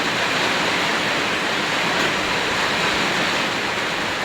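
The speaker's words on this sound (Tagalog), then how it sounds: "May kasamang hangin yung ulan." Dense, steady roaring rush of heavy typhoon rain mixed with wind, loud and unbroken throughout.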